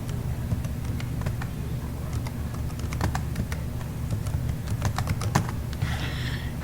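Someone types a password on a computer keyboard while installing SQL Server 2014: a run of quick, irregular key clicks over a steady low hum, ending in a brief faint rustle.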